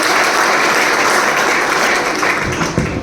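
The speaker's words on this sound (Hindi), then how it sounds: "एक बार ताली हो जाए" An audience at an STC function gives a burst of steady, dense applause, loud and close, with no talking over it.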